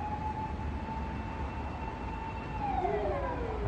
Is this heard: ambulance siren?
yes